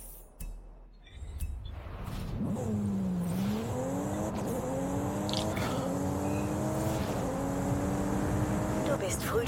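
A car engine driving in the racing video game Forza Horizon 5, revving and shifting through rising and falling pitches, loud and steady over game ambience.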